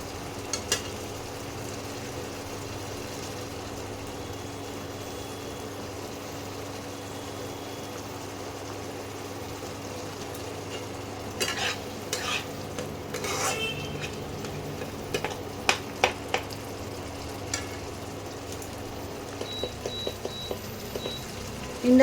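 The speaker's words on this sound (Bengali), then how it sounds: "একটু পেঁয়াজটা ভেজে নিই" Onions frying in a pan on an induction cooktop for Benarasi mutton, a steady low sizzle throughout, later broken by sharp scattered clinks and scrapes of a utensil against the pan.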